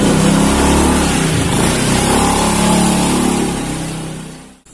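A motorcycle engine revs loudly and steadily up close, holding a strong throbbing roar before tapering off and cutting out near the end.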